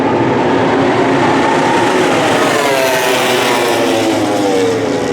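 A Red Bull KTM factory MotoGP motorcycle on the pit straight at the 2023 MotoGP of Bharat makes a loud, continuous, close engine roar that stays intense throughout, with no voices.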